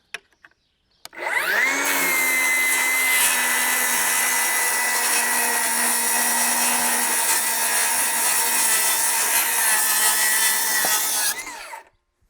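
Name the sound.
Milwaukee rear handle circular saw cutting wood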